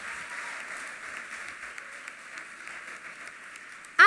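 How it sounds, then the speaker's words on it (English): A graduation audience claps for faculty and staff, a faint, steady patter of many hands held at an even level, ending in one sharper, louder burst. "Round of applause for our faculty and staff."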